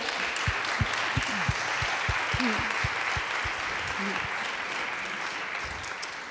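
Audience in a hall giving applause at an event about young people working to change the world, a steady hiss of many hands clapping with a few distinct nearby claps and faint voices mixed in.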